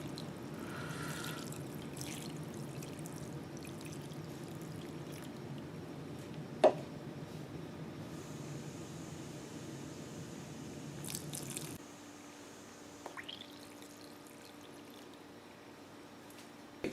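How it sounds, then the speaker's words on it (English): Warm soda ash water, around 120 degrees, is poured over tie-dye fabric, giving a low, steady trickle and wet sloshing with occasional drips and small clicks, close and quiet, before the flow stops near the end. "So I'm just going to pour that over each of these and let that sit for about an hour or so"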